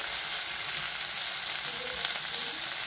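A tomato mixture sizzles and fries steadily in a pan, a loud, continuous crackle close up with no talking.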